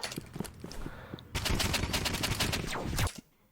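An opponent's automatic gunfire in Roblox Rivals, a few scattered shots at first, then a dense, loud rapid-fire burst lasting nearly two seconds before cutting off.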